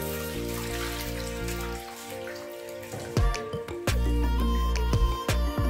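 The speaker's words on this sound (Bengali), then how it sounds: "এরপর জল দিয়ে চাল এবং ডাল ভালোভাবে ধুয়ে নিচ্ছি।" Rice, soaked moong dal and masoor dal being washed in water for chicken khichuri, with close sloshing and splashing that grows louder and sharper toward the end over a steady tonal background.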